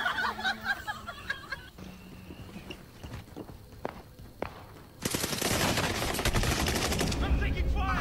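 A meme clip with light chatter and laughter, then a dense, sustained burst of rapid gunfire that fills the final seconds loudly.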